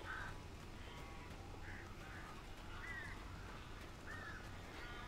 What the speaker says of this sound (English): God, look at all those birds.